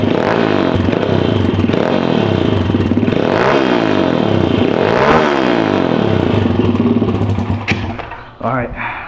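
A Suzuki SSR140TR motorcycle engine with a newly installed oversized oil cooler runs loudly nearby, rising and falling revs over a steady idle before being shut off, with someone talking over it.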